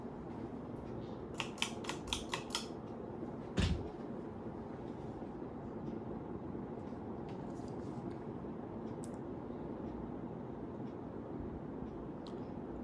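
A new Evergo 4E-5BLW ceiling fan runs on high speed as a steady, fairly quiet broadband whoosh, with a few faint clicks and ticks early on and no voices.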